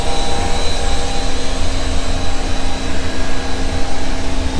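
Generators run in the engine room of a Sunseeker 90 Ocean motor yacht, a loud, continuous mechanical roar with a steady hum and broadband hiss, close and unbroken, with no talk.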